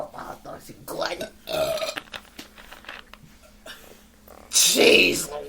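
A child burps loudly and wetly near the end, after stretches of adult conversation and background chatter at home.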